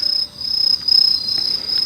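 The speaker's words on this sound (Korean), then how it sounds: "귀뚜라미 소리 들리시죠?" A dense, steady chorus of crickets chirping outdoors at night, a continuous high trilling that pulses rapidly and stays loud and close throughout, with no talk over it.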